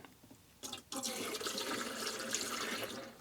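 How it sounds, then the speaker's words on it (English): Antifreeze-type liquid pours steadily down a drain in a Cougar fifth wheel trailer during winterizing, a continuous close gurgling splash that starts abruptly after a brief quiet moment. "I'm just going to pour some of this stuff down the drain."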